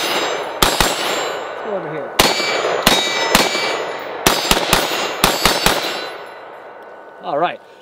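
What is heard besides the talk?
Beretta ARX rifle shots ringing steel targets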